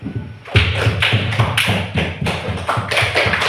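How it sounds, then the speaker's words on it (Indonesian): A classroom group gives a round of applause after a presentation, a dense run of rapid claps and taps that continues steadily at close range without talk. "Kasih aplaus dulu."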